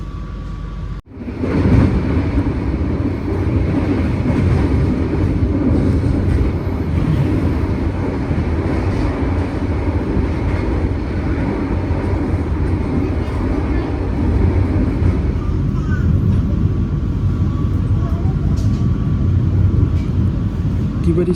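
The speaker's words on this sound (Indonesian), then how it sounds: "Perjalanan kereta api Pasundan tiba di stasiun Lepuyangan, kota Yogyakarta" Pasundan passenger train pulling into Lempuyangan station in Yogyakarta, a steady loud rumble of wheels and engine rolling on continuously after a sharp onset, with a faint tonal squeal toward the end.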